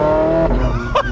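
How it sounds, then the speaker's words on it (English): A car's engine and exhaust roar loud and close as it drives with the roof off, a steady throaty drone that shifts in pitch as it revs, with a brief sharper burst near the end. "now I can hear that glorious motor because the exhaust is right there and it sounds so good"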